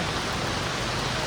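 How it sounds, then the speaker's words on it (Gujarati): Dense, steady downpour hissing evenly throughout, a continuous wash of heavy monsoon rain with lightning in Bhavnagar, with no pauses or voices. "ઘણા સમય પછી વરસાદ આવ્યો છે અને ફૂલ વરસાદ આવ્યો છે"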